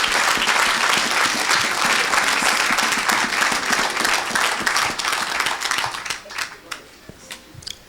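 A church congregation claps and applauds for Jesus Christ, loud dense clapping that thins into scattered individual claps toward the end, with voices mixed in.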